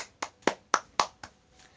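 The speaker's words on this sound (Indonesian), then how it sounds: "Tepuk tangan untuk kelompok 2" Six separate hand claps in a classroom, spaced evenly and fading slightly, for a group of primary school pupils; the claps are sharp and close, with no talking between them.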